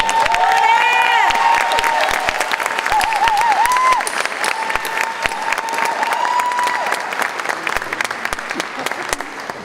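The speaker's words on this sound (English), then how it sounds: "Please give them a huge round of applause." Loud, sustained applause from a Hall of Fame ceremony audience, mixed with cheers and whistles, holding strong before gradually easing toward the end.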